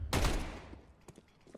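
In a Counter-Strike 2 match, a loud, close Desert Eagle shot rings out and tails off, followed by a few fainter, scattered shots in the background.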